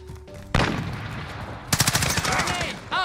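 Rapid bursts of Oden assault rifle fire in Modern Warfare, a loud stuttering volley of close shots after a brief quiet start, then a short final burst at the end.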